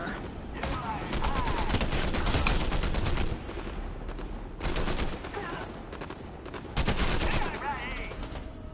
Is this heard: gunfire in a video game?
yes